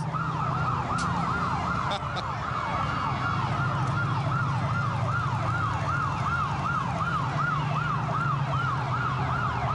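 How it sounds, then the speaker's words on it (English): Several emergency sirens wail continuously at Mardi Gras 1997 in overlapping up-and-down cycles, loud and close over a steady rumble of engines and crowd noise. "You think they got enough sirens?"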